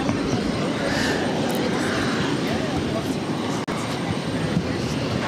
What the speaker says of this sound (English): Our next takeoff is an A321neo, Azores Airlines in the Wonder livery, special livery